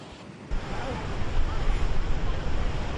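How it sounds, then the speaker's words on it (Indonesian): Heavy rain driven by strong wind in Gaza, a dense continuous roar that swells and gusts after a brief quieter start, with no voices. "Hujan lebat disertai dengan angin kencang yang menimpa wilayah ini"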